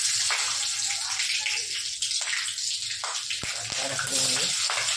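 Mustard seeds, garlic and a green chili sizzle and crackle in hot oil in a kadhai, a steady close spattering hiss with someone speaking faintly over it at times.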